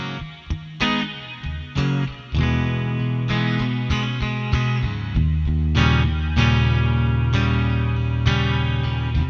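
An electric guitar plays notes and chords through a Joyo Atmosphere reverb pedal set with modulation, loud and close, each attack trailing into a wavering, shimmering wash that sustains between strums.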